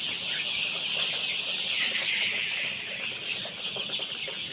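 A flock of 16-day-old poultry chicks, sick with pullorum, clucks and peeps steadily for the whole stretch in a dense, continuous chorus that stays close and fairly loud, with no voices over it.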